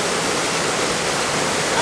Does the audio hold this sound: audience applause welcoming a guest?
no